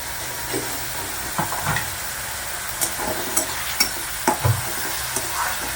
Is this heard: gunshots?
no